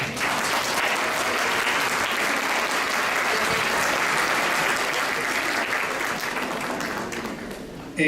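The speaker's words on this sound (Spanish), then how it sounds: "Recibámoslo con un caluroso aplauso." A seated audience at a museum talk on education, memory and human rights bursts into sustained, even applause, loud and steady for about eight seconds before tapering slightly at the end.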